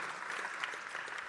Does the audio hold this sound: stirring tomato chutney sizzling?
no